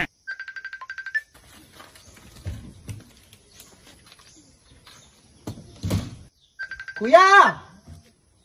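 Cellphone ringtone chiming in short repeated bursts, then stopping, with thumps and knocking in between and the ringing returning later, followed by a person's voice.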